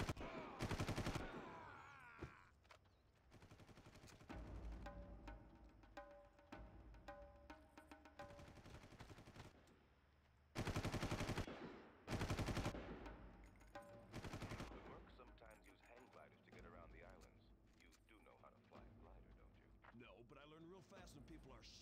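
Far Cry Classic gunfire: several loud, dense bursts of rapid shots, separated by quieter stretches where someone talks, the shooting returning in heavy clusters near the end.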